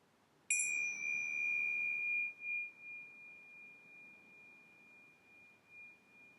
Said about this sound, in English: ready to notice the change as we listen to the bell